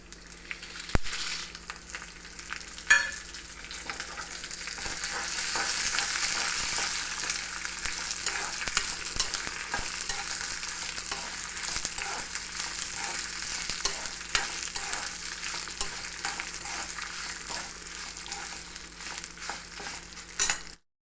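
Tempering spices with dried red chillies crackle and sizzle in hot oil for pickle-making, a steady frying hiss lasting the whole stretch, with a few sharp pops and stirring clinks near the start.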